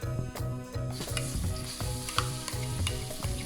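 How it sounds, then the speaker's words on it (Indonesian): A ground spice paste of shallot, garlic, candlenut, ginger and red chili fries loudly in a pan for spicy potato sambal goreng. The sizzle is dense and continuous, broken by regular scraping stirs. "Masukin, goreng dulu bumbu-bumbu yang telah dihaluskan tadi ya."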